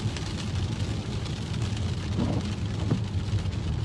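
Steady rain drums on a car while driving in poor visibility, a dense constant wash of noise with low road rumble underneath and no voices.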